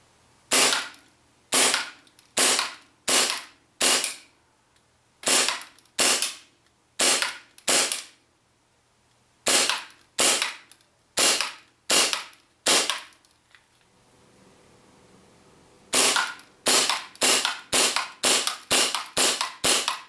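An Armorer Works Hi-Capa 4.3 airsoft pistol firing 0.2 and 0.3 gram BBs, loud sharp snapping shots in quick bursts of four to six, separated by short pauses, with a faster string of shots at the end.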